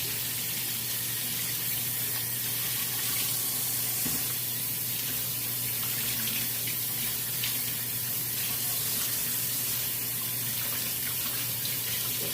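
Tap water runs steadily into a sink, rinsing peeled poblano chiles in a continuous close hiss and splash with no pauses or talking.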